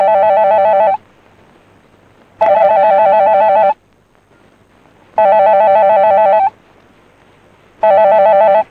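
A telephone rings loudly in repeated bursts, four electronic ring tones of about a second each separated by short silent gaps, close and clear with no talk.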